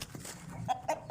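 Rooster clucking on a farm among chickens, a few short clucks with a sharper squawk near the end, close by, with no voices.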